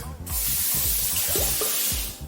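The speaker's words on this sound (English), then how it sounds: "Get a pot. Fill the pot with" Hot tap water splashes and sprays into a pot at close range, a loud, steady broadband rush starting abruptly after a brief quiet moment and continuing throughout.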